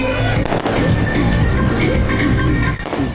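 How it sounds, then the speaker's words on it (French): Fireworks are set off at an Indian wedding, giving a dense, continuous crackle of bursts and pops that stays loud throughout with no clear talk. "Il tire des feux d'artifice."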